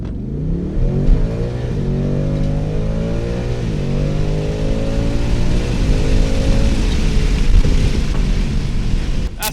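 A 2024 Ford Mustang GT S650 V8 accelerates hard, engine note climbing through rising pitch sweeps with a shift-like dip, loud and steady from inside the car, with road and wind noise underneath.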